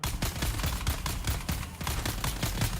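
Rapid bursts of gunfire from a rifle in the survival game Dune Awakening, loud repeated shots in quick clusters filling the whole stretch with no talk over them.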